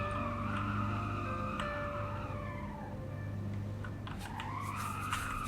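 Tires skid and squeal as a car drifts in Roblox Southwest Florida, a continuous sliding screech rising and falling over a constant engine drone, with no voices.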